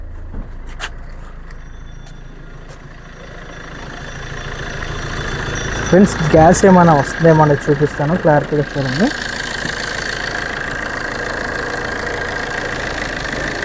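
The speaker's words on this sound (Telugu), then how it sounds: "ఒకసారి ఇంజిన్ కూడా మీకు స్టార్ట్ చేసి ఉంది" A Maruti Swift Dzire diesel car engine idling steadily with a low mid-pitched rumble, briefly revved a few times in short bursts, while someone talks over it.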